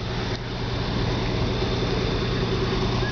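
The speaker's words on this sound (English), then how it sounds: "We have the 4 mile engine who is drafting and feeding 5-inch hose" A rural fire engine's pump running steadily while drafting water and feeding 5-inch hose at a water supply drill, a constant droning engine hum with no change in pitch, close and even throughout, with no voices.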